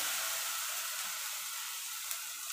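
Pointed gourd frying with shrimp and a garlic and green chilli paste in a pan, a steady, loud bright sizzle hissing continuously from start to finish, no talking.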